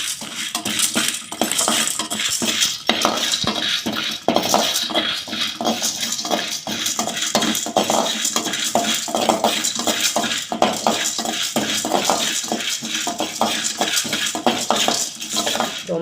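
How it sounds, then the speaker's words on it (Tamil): Chana dal roasting dry in a metal pan while a spoon stirs it continuously, a steady dense rattle and scrape of lentils against the pan, close and loud throughout. "கடலைப்பருப்பு, இது ரெண்டுத்தையும் சேர்த்து முதல்ல நம்ம வறுத்துக்கலாம்."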